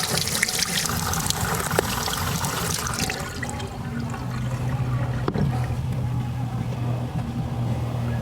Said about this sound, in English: now I'm gonna wash this off real good, clean it up